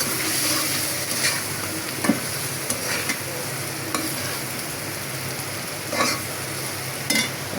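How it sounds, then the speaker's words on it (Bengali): Spice paste frying with fish pieces in a pan, a continuous loud sizzle broken by intermittent scrapes and knocks of the spatula, close by with no one speaking. "মাছের সাথে একটু কষাবো"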